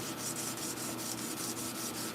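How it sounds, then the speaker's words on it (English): Hand sanding a late medieval Damascus steel sword, a steady close rasping rub in quick repeated back-and-forth strokes, with no voices. "I'm hand sanding it right now to etch it"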